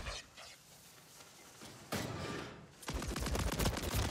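Loud shotgun blasts and gunfire in a Call of Duty match, a sharp burst followed by a denser volley of shots near the end, over quieter game ambience.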